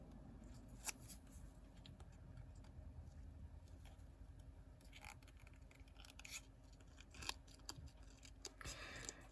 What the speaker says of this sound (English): I'm going to have to cut off her little antenna because they're just not going to make the cut